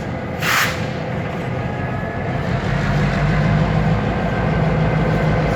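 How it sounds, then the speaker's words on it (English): Freight train with hopper cars rolling past at moderate distance, a steady broad rumble and rail noise throughout with a brief high hiss early on, no voices. "we have a train over there. He just dropped off one hopper and just picked up another one."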